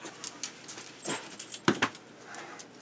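A dog whimpers and pants in short, soft bursts, with a couple of sharper, closer whines near the middle and a faint background hiss between them.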